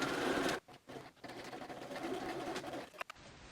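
A sewing machine stitches half-inch buttonholes into fabric for a drawstring, a faint continuous whirring hum broken by short pauses and a few soft clicks.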